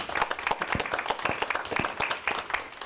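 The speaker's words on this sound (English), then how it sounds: "And we applaud her for that, and we thank her for that." An audience at a Lorain City Schools board of education meeting claps for a few seconds, a steady patter of many hands with sharp individual claps, fairly close and heard alone.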